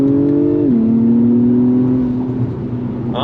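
A 2024 Acura TLX Type S accelerates on throttle, its loud engine note dipping in pitch with a shift, then climbing steadily as the sedan pulls hard, heard up close from inside the car.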